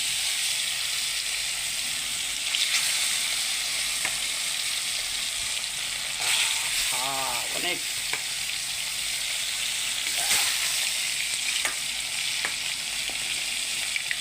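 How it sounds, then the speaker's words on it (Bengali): Katla fish pieces deep-frying in plenty of hot oil give a continuous bright sizzle and crackle, with occasional louder pops and a brief clink of a utensil against the pan. "ডুবা ডুবা তেল দিয়া মাছ ফ্রাই করতেছি"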